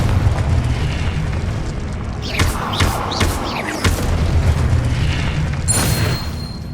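Confringo blasting spell explosions in the Hogwarts Legacy video game: several sharp magical bursts and booms over a dense, rumbling game soundscape, with a bright crackling flare near the end.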